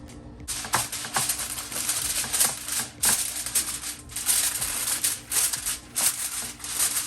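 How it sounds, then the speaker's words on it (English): Tin foil crinkles and rustles as it is pressed over a baked pasta dish in a home kitchen, a close, steady crackling with repeated sharp crumpling bursts throughout. "Put tin foil over this one."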